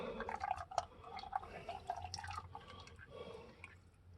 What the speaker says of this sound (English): Say the oil pan's getting full.